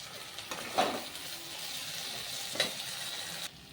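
Potato and pointed gourd curry with sauce sizzling in a pan, a steady close fry punctuated by two brief stirring scrapes, with no talk.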